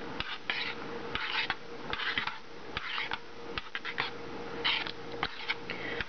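Millet is stirred in a pot with a spoon, giving repeated scraping and rasping strokes with light metallic knocks, close and steady with no speech.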